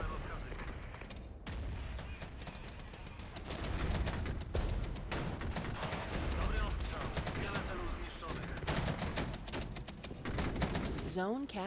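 Heavy artillery barrage in a realistic real-time strategy game: dense, continuous overlapping shots and booms of battlefield fire, loud throughout, with a brief lull near the start and rising whistles at the end.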